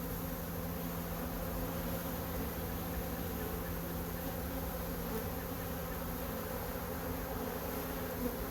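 Honey bees from a strong colony buzz continuously in a dense, steady drone, close and loud, with no pauses.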